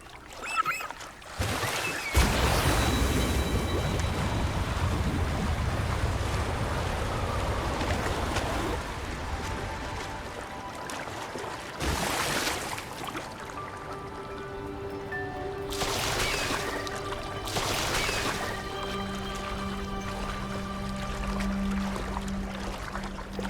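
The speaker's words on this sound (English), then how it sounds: "That's a really big waterfall." Rushing river water and a large waterfall in the video game Wuthering Waves, a broad steady roar that swells and recedes, with no talk.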